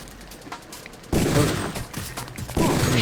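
Gunfire in The Nameless Mod, a loud burst of rapid automatic shots that starts abruptly, pauses briefly, then resumes, with quieter ambient game noise before it.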